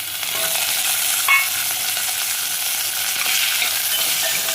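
Carrot, onion and green chili crackle in hot oil during a tempering, a steady broadband sizzle with a brief stir near the start, close and continuous, no talking.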